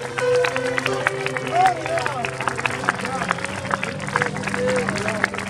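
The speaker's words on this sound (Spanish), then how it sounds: "Alguien aplaude a Jesús." A church congregation applauds during a sermon, with scattered claps mixed into crowd murmur and voices talking over it throughout the short stretch.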